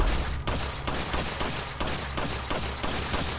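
Ada's unupgraded handgun in Resident Evil 4 fires repeatedly, about eight loud, evenly spaced shots in a steady rhythm over a continuous low rumble, with no talking.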